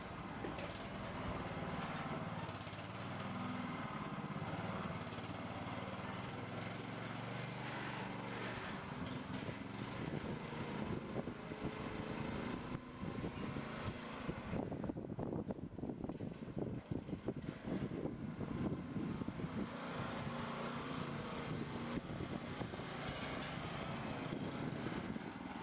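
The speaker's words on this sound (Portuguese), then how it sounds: "Aqui nós podemos ver uma máquina de raspar esterco" A manure scraping machine runs in a cattle barn with a continuous mechanical drone and rumble. The noise is dense and constant, with rattling and clattering toward the end.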